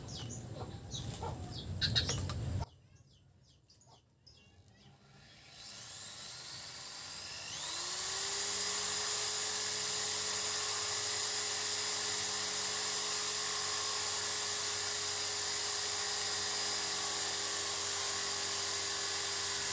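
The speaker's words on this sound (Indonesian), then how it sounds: "lanjut ngebor" Electric drill bores a hole into a wooden handle, starting with rustling handling noise, then a pause before the motor spins up into a steady, loud whine that holds unbroken for over ten seconds.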